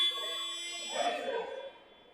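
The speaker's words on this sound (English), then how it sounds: "And that's the buzzer to signal the end of the timeout." A basketball arena buzzer sounds a single sustained electronic blare to end a timeout, fading out after about two seconds with crowd noise and commentary underneath.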